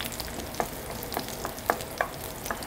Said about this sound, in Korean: 팬에 기름 한 큰술 정도 넣고 마늘을 먼저 볶아 볼게요